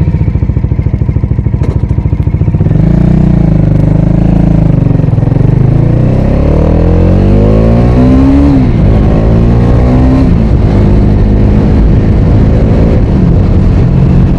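Bajaj Dominar 400 motorcycle, a 157 kg bike, running loud and close while ridden, its engine revving up and down through gear changes with rising and falling pitch sweeps throughout.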